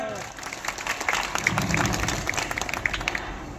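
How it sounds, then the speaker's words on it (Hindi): Audience applause at a company's Republic Day ceremony, a dense wash of clapping from a crowd that swells and holds steady, with some voices mixed in. "तालियां बजी"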